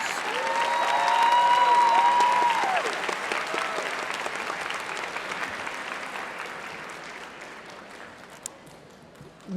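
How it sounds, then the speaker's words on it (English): Loud applause fills a hall as coaches are honored at a speech and debate assembly. The clapping swells early, then slowly fades and thins toward the end. "Let's give our third diamond coaches one more round of applause."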